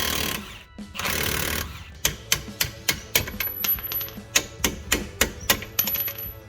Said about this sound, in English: So I need to grab a spanner, then we can undo this thing.